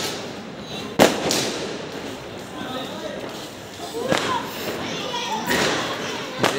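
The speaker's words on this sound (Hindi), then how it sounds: "भाई काफी ज्यादा पटाखे आज फूट रहा है यार" Firecrackers burst during Diwali celebrations, a few sharp sudden bangs and thumps scattered over a continuous noisy outdoor background, with someone talking over them.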